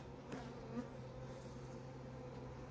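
Faint, steady buzzing of honey bees from a weak winter hive nearby, a low continuous hum with no talking.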